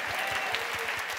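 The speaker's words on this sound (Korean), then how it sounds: "오늘 우리 기도의 능력이 되신 주님께 감사와 영광의 박수 올려드리겠습니다" A church congregation at a prayer meeting claps together in a brief, fairly quiet burst, the hand claps falling into a loose, steady rhythm.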